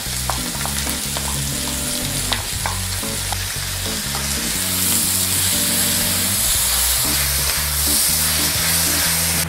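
Vegetables and bell peppers sizzling loudly in a hot pan during stir-frying, a steady hiss broken by rhythmic scraping and clanking of a utensil stirring the food.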